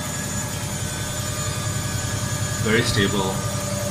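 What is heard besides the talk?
Electrolux front load washing machine spinning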